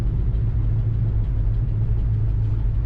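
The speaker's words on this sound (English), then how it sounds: "Nice running, strong running Nova." A 1969 Chevrolet Nova with a 396 engine, running with a steady, deep, close rumble and no change in pace.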